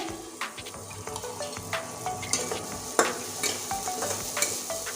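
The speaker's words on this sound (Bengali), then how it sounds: "মশলা থেকে তেল না ছাড়া পর্যন্ত আমি কষতে থাকবো" Masala spice paste being sautéed in oil for a Bengali egg curry, a close, continuous sizzle broken by repeated scraping stirs and spoon taps against the pan at an uneven rhythm, without any talking.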